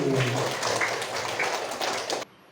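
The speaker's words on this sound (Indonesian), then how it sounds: "Tepuk tangan buat Pak Is." A classroom group claps together in steady applause for about two seconds, dense and lively, then it cuts off abruptly.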